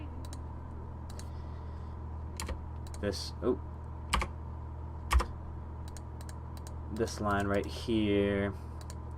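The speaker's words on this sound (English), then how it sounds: "You can probably hear my mouse clicking, and it's probably super annoying" Mouse clicks from digital drawing in Photoshop, a few sharp isolated clicks scattered through steady room hum, with a person speaking briefly near the end.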